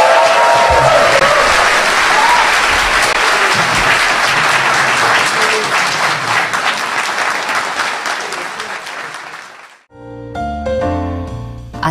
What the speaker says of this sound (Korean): 박수 좀 쳐줘.